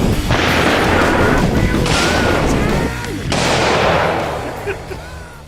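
Loud shotgun blasts from an inexpensive Canadian shotgun fired outdoors on a farm, a couple of heavy booming reports with long reverberant tails filling the clip.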